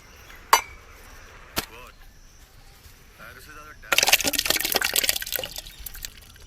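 Liquid pours into a cooking pot, a sudden rushing splash after a couple of sharp knocks, close and steady for a few seconds.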